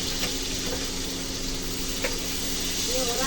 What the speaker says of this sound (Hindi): ये हो रहा प्याज फ्राई